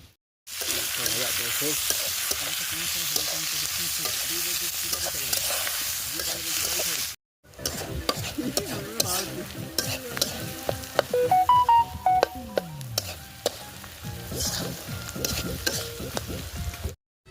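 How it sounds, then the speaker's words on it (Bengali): Turmeric-coated meat sautés over a bamboo wood fire at an outdoor picnic, giving a steady, close sizzle with scraping stirring noises and clattering handling sounds partway through. "মাংসটা কষা চলছে ঠিকঠাক করে, তাই হালকা জাল দিয়ে আমরা কষে নিচ্ছি মাংসটা।"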